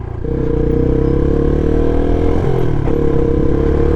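A small Peugeot PM-01 125cc motorcycle engine runs steadily close by, a loud continuous buzzing drone with a slight dip in pitch partway through.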